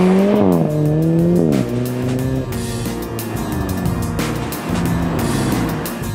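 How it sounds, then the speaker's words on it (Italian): An Alfa Romeo 4C on a test drive, its engine roaring loud and close through rising and shifting gears, with tyre squeal mixed in and no talk. "Una cosa che rende ancora lo spirito più da gara di questa macchina è il rombo del motore."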